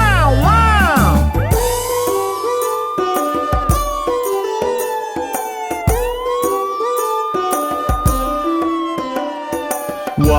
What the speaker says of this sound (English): Let's call an ambulance.